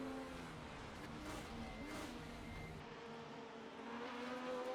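Race cars lapping the Hockenheim circuit during a classic-series race, engines droning steadily and continuously at moderate distance with a rising whine near the end.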